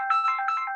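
A phone ringtone chirps in a bright repeating electronic melody during a class, clear and steady with no voices over it.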